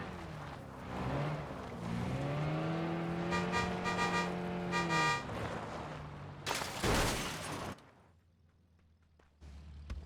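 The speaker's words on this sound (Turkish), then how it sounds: "Bak şu taraftan adam sıkıyor." Gunfire in the battle royale game PUBG, with a P90 in play and a vehicle engine droning through much of the scene; rapid bursts of shots ring out near the middle, followed by a loud sharp blast and quieter scattered sounds.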